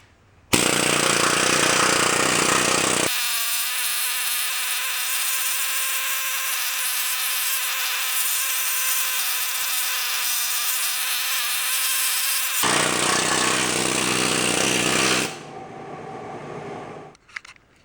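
Loud, harsh rapid hammering of a needle scaler on the metal of a 2007 Silverado crossmember, running continuously for several seconds with shifts in tone before stopping.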